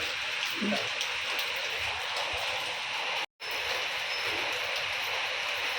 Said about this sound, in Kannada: ಮಳೆ ಬರ್ತಾ ಇದ್ರೆ